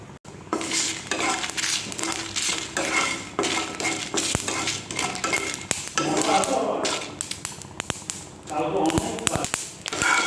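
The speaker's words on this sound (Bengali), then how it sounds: "এবার এটাকেই কিন্তু শুকনো খোলায় ভালো করে আমি টেলে নেব" Cumin seeds and dried chillies dry-roasting in a dry pan, heard as a steady run of soft scraping, stirring and metal clinks from a utensil against the pan, close by and under intermittent talk.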